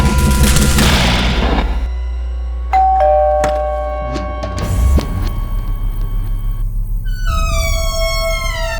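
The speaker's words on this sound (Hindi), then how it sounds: "हम सबके घरों में दिन में कई बार डोरबेल बजती है।" A household doorbell chimes loudly in a dramatic crime-show opening, ringing out twice with bright ding-dong tones over deep booming rumbles and a low sustained drone.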